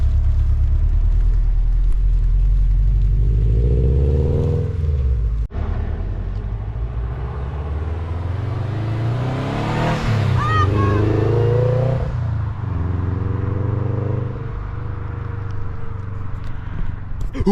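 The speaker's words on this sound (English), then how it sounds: "I'm so keen to take it for a drive." A lowered 2011 Subaru WRX on BC Racing coilovers pulls away for a road test, its engine rumbling loudly close by and rising in pitch as it revs and accelerates, then settling back to a steady drone.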